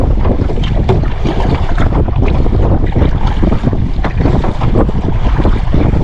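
Strong wind while kayaking on Comox Lake, loud close gusts buffeting the microphone with choppy water splashing against the kayak, a dense continuous roar.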